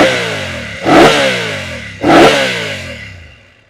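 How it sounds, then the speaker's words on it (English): A BMW F 900 GS motorcycle with a 895cc engine and stock Akrapovic exhaust idles, then blips the throttle twice in sharp, loud revs that drop back quickly, close up with no voices. "this motor now has a bit more character to its sound, thanks in part to this standard Akrapovic exhaust"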